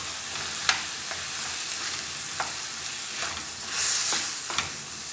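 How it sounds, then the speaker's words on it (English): Chicken pesto pasta sauce sizzles in a hot pan as it is stirred, a constant frying hiss broken by a few soft scraping strokes of the utensil. "So I'm gonna give it another mix."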